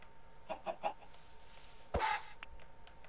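Chicken clucking in Minecraft: a quick run of three short clucks, then a sharper louder cluck burst with a brief trailing note, close and clear with no talk.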